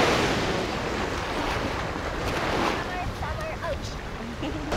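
Ocean waves wash against a rocky shore at Acadia National Park in summer, a continuous roaring surf mixed with wind buffeting the microphone, and faint voices talking near the end.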